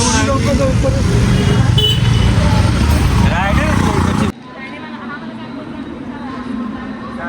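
Road traffic on the way to Panvel, with car engines, passing vehicles and a horn toot heard under close talking before the sound drops to a quieter interior hum partway through.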